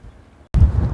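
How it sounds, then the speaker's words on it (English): Wind gusts against a microphone outdoors on a coast path: after half a second of near quiet, a sudden loud, low buffeting rumble breaks in and continues to the end. "Oh, windy."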